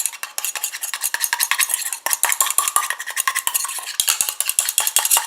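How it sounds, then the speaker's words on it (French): Oil and water phases of a cosmetic eye cream stirred briskly in a small container, rapid rhythmic clicking and scraping of a utensil against the vessel, close and fairly loud, with no voices. "je mélange comme ça jusqu'à ce que mon émulsion épaississe"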